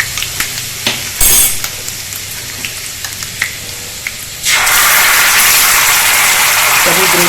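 Gravy tipped into hot oil with ginger for restaurant-style shahi paneer erupts into a loud, steady sizzle after a few seconds of light clinks and stirring taps, then keeps frying at full strength.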